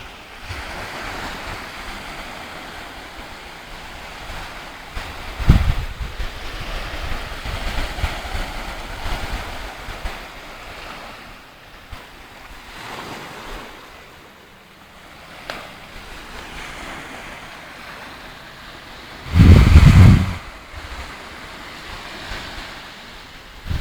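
Ocean waves wash onto Sibulan beach in a steady broad roar, with wind buffeting the microphone and one loud gust burst near the end; no voices.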